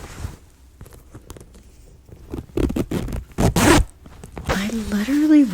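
A fabric pouch zipper is pulled open and shut in a quiet close-up ASMR setting, a few short scratchy zips building to a longer, louder rasping pull near the end, preceded by soft taps and handling.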